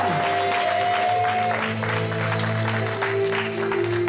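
A church congregation gathered at a women's convention applauds God, with steady clapping and some cheering from many people while a sustained tone holds underneath.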